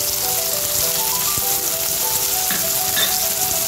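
Tomato cooked down with turmeric, coriander, cumin and Kashmiri chilli powder frying in a pan for a tilapia tel jhal, giving a dense, steady sizzle with light spattering crackles and a few faint clinks, all close by.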